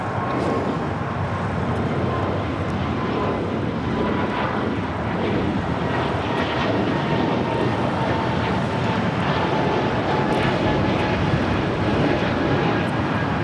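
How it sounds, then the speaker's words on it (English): Breeze Airways Airbus A220-300 taking off from LAX bound for Jacksonville, a steady broadband engine roar heard from a distance over constant wind buffeting, holding level throughout. "This is Breeze Airways Flight 707 taking off to Jacksonville on an A220-300."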